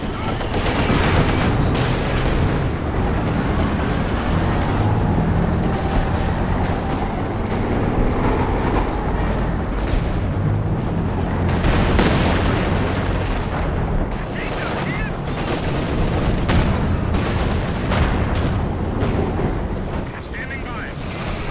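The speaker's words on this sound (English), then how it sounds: "I was trying to take out this mortar pit with my rocket artillery" Rocket artillery firing at a mortar pit in Company of Heroes 2 during a 4v4 co-op battle against AI, a dense unbroken roar of launches, blasts and rumbling battle noise that stays loud throughout.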